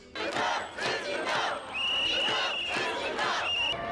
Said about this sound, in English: rallying crowds swamp the streets in the biggest anti-Wall Street demonstration